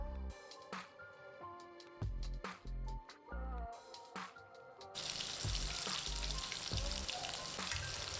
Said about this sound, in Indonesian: Goreng sampai warnanya kuning kecoklatan sambil sesekali dibalik.